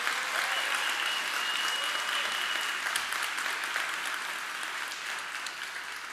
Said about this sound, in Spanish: te damos este aplauso para que te sientas bienvenido